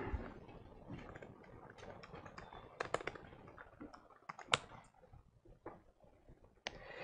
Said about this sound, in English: I type on this laptop because it's a pain to type on the Surface